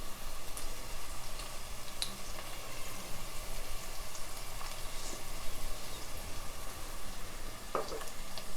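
Tomato fries in a pan with chilli powder, turmeric and salt for Nellore fish pulusu, giving a steady, close hiss and sizzle with faint spatter pops and no talk.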